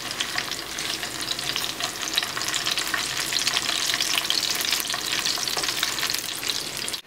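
Steady crackling sizzle of garlic frying in a hot pan, close and continuous, with faint stirring scrapes.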